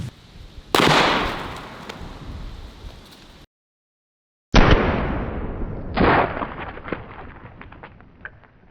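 A Henry Model X .44 Magnum lever-action rifle shooting a honeydew melon: two loud, sharp gunshot blasts a few seconds apart, each with a ringing decay, separated by a silent gap.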